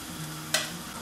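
Batter for a Turkish breakfast flatbread spread thin in a pan, giving a soft steady sizzle with a brief scraping stir partway through, close and fairly quiet.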